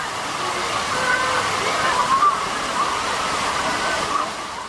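A city fountain splashes continuously with a steady rushing wash of falling water, fairly loud and close, with faint background tones over it.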